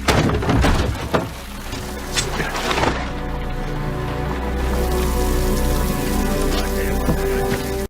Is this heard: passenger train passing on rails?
no